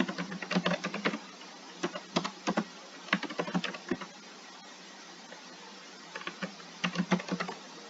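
Fingers type on a computer keyboard while working in a text editor. Clusters of quick, close, crisp key clicks come in irregular bursts, with short quiet gaps between them.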